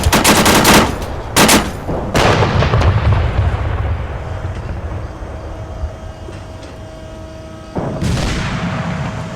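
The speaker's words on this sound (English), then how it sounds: "here comes the artillery coming down" Heavy artillery and rocket strikes pound the battlefield in Arma 3, a burst of loud rapid blasts up front easing into a long rumbling roar and echoing tail, then another strong boom near the end, no talk.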